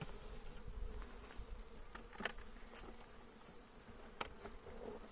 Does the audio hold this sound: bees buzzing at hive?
yes